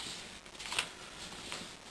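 A sheet of paper is creased and folded into a classic delta paper aircraft, making faint, close rustles and a brief crisp swipe with no talking.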